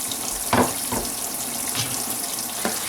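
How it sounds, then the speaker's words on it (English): Water runs over bacon in a strainer to rinse off the fat, a steady splashing hiss broken by a few soft clunks and taps of the strainer, close by with no voices. "I'm going to rinse all the fat off of this"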